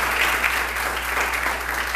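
A church congregation applauds during a worship service, a steady, dense wash of many hands clapping at once, loud and sustained throughout without pause.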